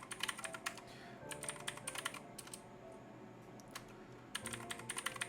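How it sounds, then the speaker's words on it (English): Fingers tap out a short word on a computer keyboard in quick bursts of clicks with brief pauses between, quiet and close, no voices. "we're just going to go ahead and type the word password."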